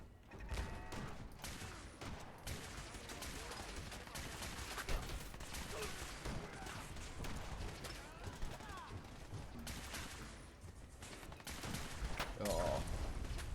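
Gunfire in the video game Wasteland: rapid, dense volleys of shots crackling continuously with little pause, steady and moderately loud throughout.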